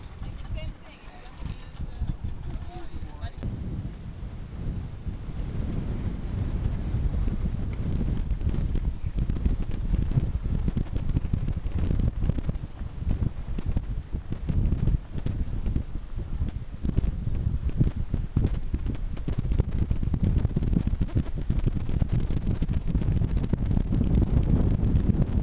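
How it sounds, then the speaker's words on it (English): Steady, rumbling wind buffets the microphone throughout, loud and continuous, with faint voices talking beneath the gusts, at a Caribbean mooring. "A little windy though. It's windy."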